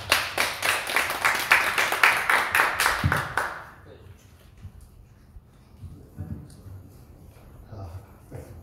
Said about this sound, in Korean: 우리 박수로 부탁드립니다